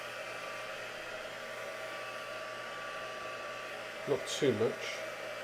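Hair dryer blowing steadily over craft paint, a constant close whoosh running the whole time, with a woman's brief remark near the end.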